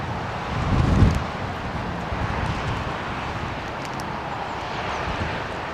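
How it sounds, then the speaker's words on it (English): An Air Mauritius jet airliner at London Heathrow Airport gives a broad, steady engine roar with wind noise, a little louder at the start and then holding level. "That Air Mauritius jet."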